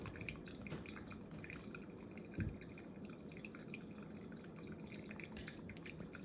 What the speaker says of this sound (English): So I'm still focusing my pour right in the middle.